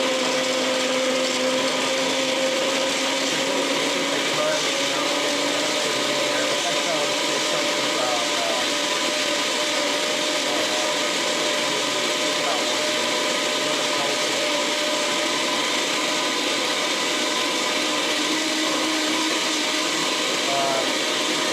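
A kitchen blender runs with water while making cheese weenie bites, a loud, steady whirring grind held for about twenty seconds without pause.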